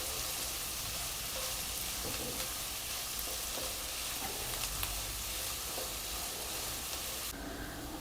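Onions sizzle and fry in a pan for palak paneer bhurji, a continuous close hiss with occasional stirring scrapes, steady throughout and free of talk.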